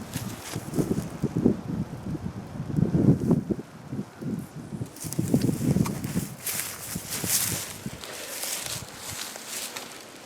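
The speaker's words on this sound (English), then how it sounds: "The wind picked up pretty good" Gusty wind at a lakeside fishing spot buffets the microphone in low rumbling surges, rising and falling over several seconds, with some rustling and faint handling noise.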